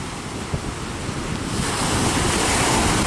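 Stormy sea heard from a boat caught in a typhoon: loud, continuous roaring surf with howling wind buffeting the microphone, the rush swelling stronger in the second half, with no voices.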